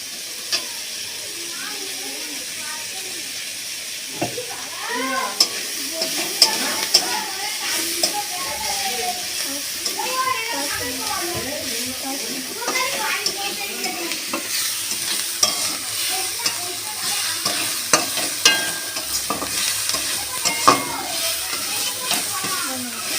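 Food fries and gets stirred in oil in a pan, a steady close sizzle broken by frequent scraping and clattering stir strokes throughout.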